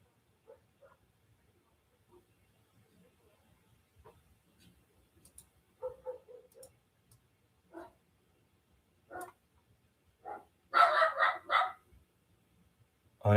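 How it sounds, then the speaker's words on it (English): A dog barks in scattered bursts, a few single yaps and then a louder cluster of barks near the end, fairly distant and heard against a quiet background during a school board meeting. "Oh, now we got a dog barking."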